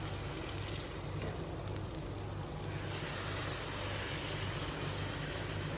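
Chole bhature poori dough fries in hot oil, a dense, even sizzle and crackle that holds steady and close, with a faint low hum beneath and no one talking.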